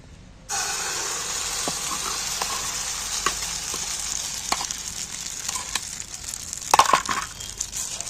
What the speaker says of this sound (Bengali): এবার এই ফাটানো ডিমটা এর মধ্যে দিয়ে দিচ্ছি প্যানের মধ্যে